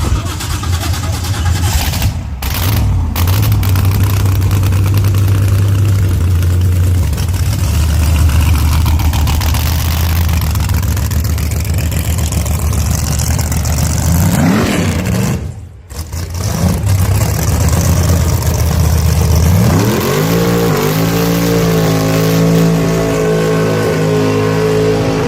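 A drag racing car sits at an outlaw drag strip with its engine idling in a loud, steady low rumble. It revs briefly near the end, and voices of the crowd can be heard over it.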